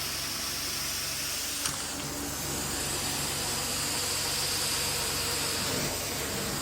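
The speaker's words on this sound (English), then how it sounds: "Steaming it out, sanitizing it, all is well." A carpet steam cleaner at 230 degrees runs during carpet restoration, giving a loud, steady hiss with a low motor rumble close by and one brief knock partway through.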